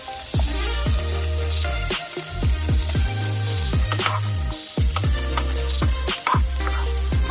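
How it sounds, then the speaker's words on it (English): Chopped onion fries in extra virgin olive oil in a pan, a steady sizzling hiss heard beneath loud rhythmic music that dominates throughout. "Add a little bit of extra virgin olive oil to our pan, and we're going to go ahead and add our onion"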